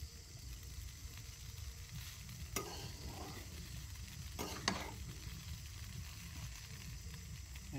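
White noodles stirred and cooked outdoors in a field at a picnic, with steady frying sizzle throughout and a couple of sharp scraping stirs of the utensil against the pan.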